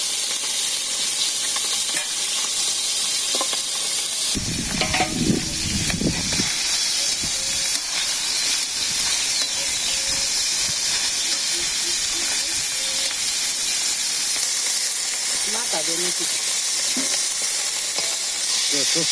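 Steady loud sizzling hiss of onions frying in a pan throughout, with a brief low thump and some faint clatter partway through.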